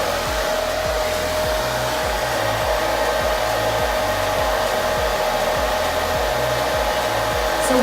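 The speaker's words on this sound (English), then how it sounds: "you're going to take the diffuser and you're going to start diffusing in the middle." A hair dryer fitted with a diffuser runs steadily while drying curly hair, a loud constant whir with a faint rhythmic pulsing throughout and no talking.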